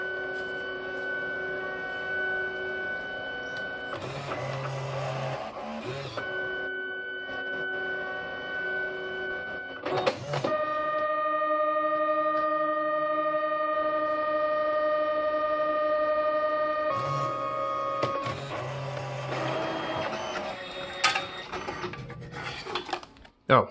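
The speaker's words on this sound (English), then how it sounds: "We're going to print another test card." A Fargo HDP card printer runs a test card, with sustained mechanical whirring and tonal motor hum broken by clicks and shifts between printing stages.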